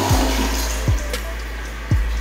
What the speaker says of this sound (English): And it is still flushing.